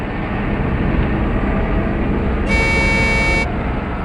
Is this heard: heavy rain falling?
no